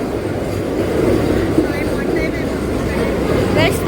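A Vande Bharat express train, the 22223 Dadar–Sainagar Shirdi service, rumbles into a station with a steady heavy roar, and a faint squeal rises near the end as people talk nearby.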